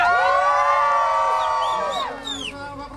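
A party crowd cheering for the hostess, several voices whooping and shouting together in rising and falling calls, loud at first and thinning out after about two seconds.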